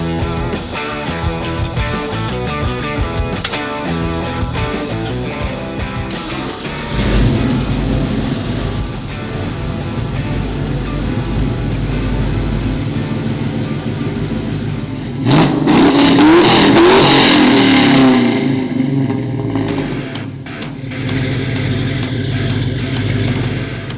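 A Chevrolet C10 pickup truck engine cranking, catching and idling roughly, then revved several times with a rising roar before settling back, close and loud.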